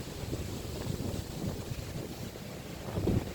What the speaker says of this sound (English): So the wind's picking up really strongly here.